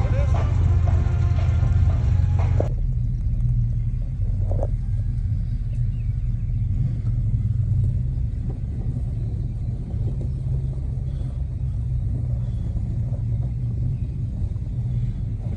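Eleven cars (Chevys, Fords and a Jeep) roll slowly along in a parade, making a continuous low engine rumble from start to finish, with faint background sounds over it.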